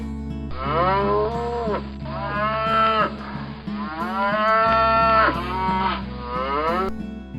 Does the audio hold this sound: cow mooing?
yes